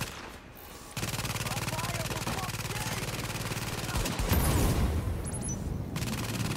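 A turret fires in The Division video game, a rapid, continuous automatic burst that rattles on loud and steady for several seconds, with voices talking over the gunfire.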